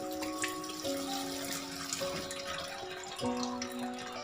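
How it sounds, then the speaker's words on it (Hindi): Cold water runs over boiled macaroni in a strainer basket, a steady close splashing stream with a faint ringing metallic tone, continuous throughout with no one talking. "और ऊपर से थोड़ा सा इसके ठंडा पानी बहा दूँगी।"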